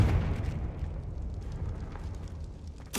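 A Confringo fire spell explodes in the Hogwarts Legacy video game: a rumbling boom opens the moment, a low roiling tail follows, and a second sharp burst hits at the very end.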